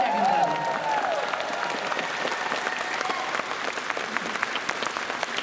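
An audience at an Anthrocon 2025 opening ceremony claps and cheers in a steady, sustained round of applause that fills a large hall, fairly loud and continuous throughout.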